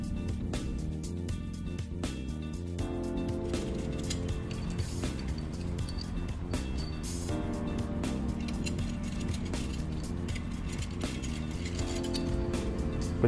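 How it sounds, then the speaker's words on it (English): A wrench ratchets steadily while tightening the bolts that join a slip plate to the driver bar of a vibration shaker, a continuous close mechanical clicking that runs throughout. "Torque the slip plate to driver bar bolts."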